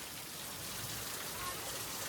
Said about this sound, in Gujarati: તો ગાઈસ વરસાદ આવી ગયો તો હા